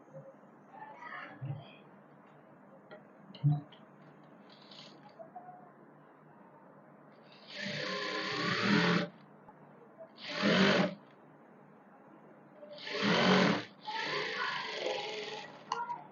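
A sewing machine runs in three short bursts, stitching a second seam across both gathered panels of a sharara garment, close and fairly loud, with a soft voice talking quietly in between.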